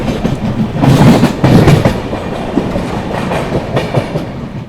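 The Jharkhand Sampark Kranti Express (12826) rolls into Ranchi Junction, a loud steady rumble of wheels with rhythmic clickety-clack over the rail joints, heard close from on board.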